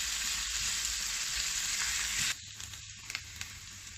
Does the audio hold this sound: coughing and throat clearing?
no